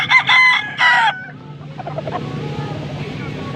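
A rooster gives two loud, harsh crows close by at a chicken market in Angeles, Pampanga, then softer clucking and low background noise continue afterward.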